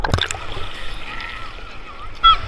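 Seawater sloshing and gurgling around a bather at Puri beach, a close, fairly quiet wash of surf with a few sharp splashes at the start and end.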